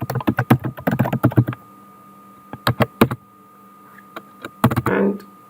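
Username and password tapped in on a computer keyboard while logging into a Hillstone firewall device, a bursty run of quick clicky keystrokes, then a pause and a few scattered presses ending on a firmer key hit, close and clear.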